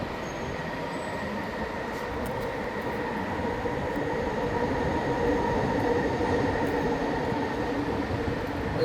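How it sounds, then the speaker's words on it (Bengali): A train rumbles past steadily, a continuous loud roar of rolling wheels on rails that holds for the whole stretch without pause. "সাইড থেকে ট্রেন যাচ্ছে"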